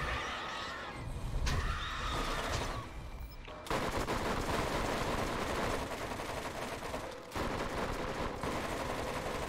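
Rapid gunfire from a firefight in Borderlands Enhanced, sustained bursts of shots with brief gaps, loud and continuous over game effects and faint voices.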